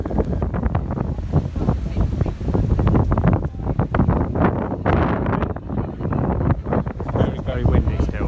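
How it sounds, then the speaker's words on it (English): Strong wind buffets an outdoor microphone on a grey, blustery day, with loud continuous rumbling gusts that rise and fall throughout and fill the whole clip. "The weather, as you can see, is very windy and grey and quite exciting."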